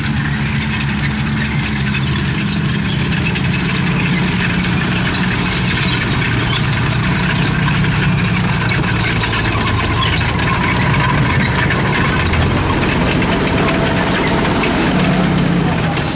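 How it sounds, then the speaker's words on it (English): A German WW2 tank engine idles loudly and continuously, a heavy low rumble with steady vibration close by and no pauses. "And again, our iconic German tank."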